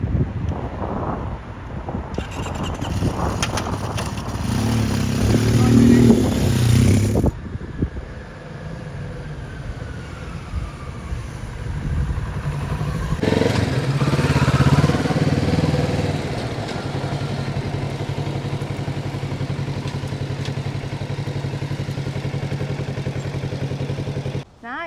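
A Kawasaki Z650RS motorcycle ridden on the road, its engine droning steadily and rising and falling through gear changes, heavily buffeted by wind rushing over the microphone for the whole stretch.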